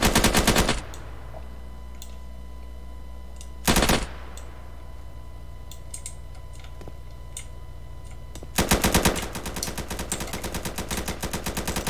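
Automatic gunfire in the Roblox game Blackhawk Rescue Mission, rapid loud bursts at the start, a short burst midway and a long sustained stream near the end, with faint ticking between bursts and no talking.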